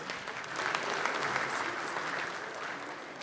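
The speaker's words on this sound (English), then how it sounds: "Ladies and gentlemen, a round of applause for them." Audience applause for summit panelists and moderator taking the stage at a Ghana CEO business summit, a dense, steady round of clapping from a large crowd lasting a few seconds.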